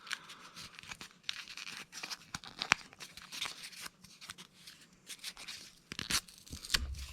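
Cardboard and plastic packaging on a Superthings Kazoom Power Battle toy box being torn open by hand: a string of sharp, close rips and crinkles in uneven bursts, with short pauses between pulls.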